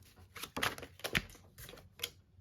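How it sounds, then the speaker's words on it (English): A deck of tarot cards is shuffled in several short, crisp riffling bursts close by, with brief quiet gaps between them. "This is just going to be shuffling."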